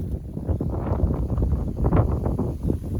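Steady low rumbling wind on Hermit Mountain buffeting the microphone, loud and continuous with gusty swells throughout.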